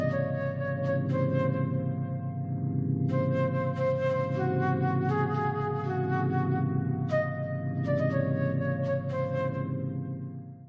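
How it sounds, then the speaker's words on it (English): Old MacDonald Had a Farm rendered as an Insen-scale variation over an altered dominant chord, a plucked or keyboard melody of short notes in phrases above a sustained, pulsing low accompaniment, with no talking. "Old MacDonald Had a Farm could sound something like this as an Insin variation over an altered dominant"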